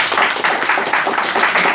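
An audience at the Hanoi Philosophy Forum applauds a speaker with loud, dense clapping from a roomful of people that holds steady throughout.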